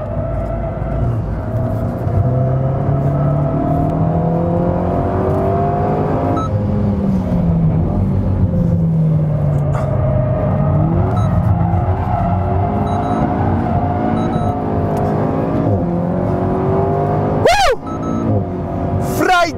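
An Alpine A110S drifts and accelerates on a racetrack at Silesia Ring. The engine note rises and falls under throttle, with tire squeal and a brief sharp rising whine near the end, heard close and continuous.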